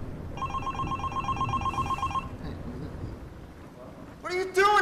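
A telephone ringing during an interrogation scene in a crime drama, a steady repeating electronic ring over a murmuring background, with a sharper sound burst at the end.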